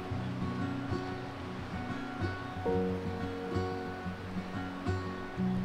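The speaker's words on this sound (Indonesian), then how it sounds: "letaknya begitu dekat dengan laut dan ombaknya bisa kapan saja mengganas" Sea waves wash against a rocky coast near Pulau Ndana, a steady surf roar with repeated swells rolling in at moderate distance, no voices.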